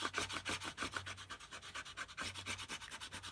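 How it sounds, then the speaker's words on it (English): A bone folder burnishes the fold of a paper card in steady, rapid back-and-forth rubbing strokes, close and fairly quiet, with no talking. "So I'm burnishing that down."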